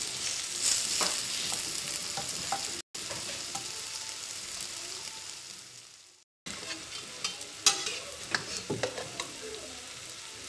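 Onions frying and sizzling in a tagine pot for a chicken and raisin dish, with steady crackling and intermittent stirring scrapes, two brief dropouts, close and fairly loud.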